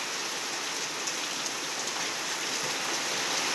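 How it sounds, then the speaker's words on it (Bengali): Rain falls steadily over mango trees, a dense even hiss of drops on surfaces, close and continuous with no voices. "দেখুন বৃষ্টিটা কেমন হচ্ছে"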